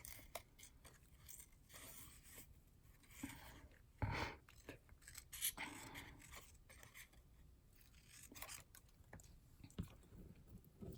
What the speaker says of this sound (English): If you move your paper rather than move your scissors, you'll get a better cut.